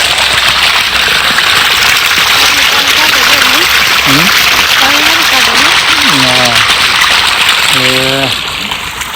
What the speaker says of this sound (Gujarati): આપણે મશીન ચાલુ કરી નાખ્યું છે